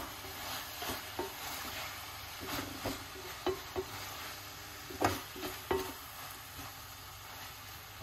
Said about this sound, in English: It's just a little bit of stir fried vegetables